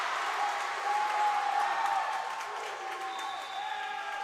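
A Northern Cass high school volleyball crowd in a North Dakota gym cheering and applauding during a fifth-set comeback against Carrington, a sustained roar of cheers and whistles, with no talk over it.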